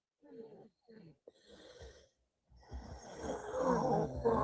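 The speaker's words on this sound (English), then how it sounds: "You heard the lighter, and then you hear heavy breathing, like she's breathing in." Heavy, rasping breaths drawn in close to the microphone after a lighter is used, starting with a few short soft sounds, then swelling into a loud, continuous noisy inhale over the final two seconds.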